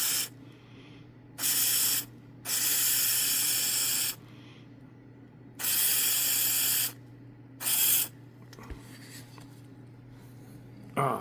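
An airbrush sprays chrome paint in several bursts of steady, close hiss, separated by short pauses.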